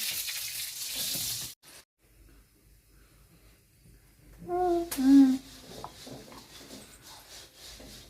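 Coriander seeds sizzling as they fry in oil in a home kitchen for a fish curry, a steady close hiss that drops off, then resumes softly with a brief voice and stirring noises.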